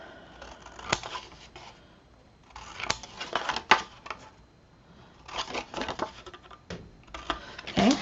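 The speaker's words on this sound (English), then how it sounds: "you're going to cut off that entire bottom corner" Paper being snipped off at its bottom corner with scissors for a double folio craft, heard as several close bursts of crisp cutting and rustling with short pauses between, plus a few sharp clicks.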